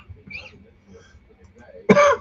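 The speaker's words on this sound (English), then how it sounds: "Sorry about my coughing." A short, loud burst of coughing near the end, following faint, quiet background talk and murmuring.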